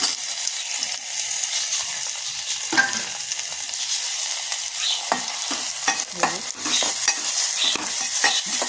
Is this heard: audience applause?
no